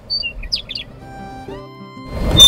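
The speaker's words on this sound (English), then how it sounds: "the lark sings merry whistling notes with which every schoolboy is" A lark sings merry whistling notes: quick high chirps and tweets up front, then sustained clear tones, ending in a louder rush of noise.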